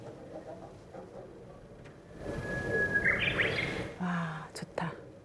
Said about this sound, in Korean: 달콤한 새소리가 나요.